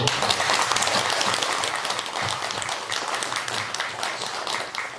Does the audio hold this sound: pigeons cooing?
no